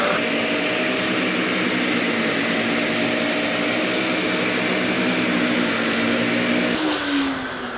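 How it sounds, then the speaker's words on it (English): A Dyson Ball vacuum cleaner with a broken brush-bar drive gear runs at a steady, loud whine, close by, then begins to wind down at the end. "I'm going to show you how to fix a Dyson vacuum cleaner"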